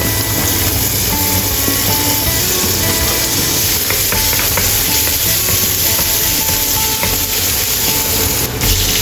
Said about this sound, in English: Stir fry chopped garlic.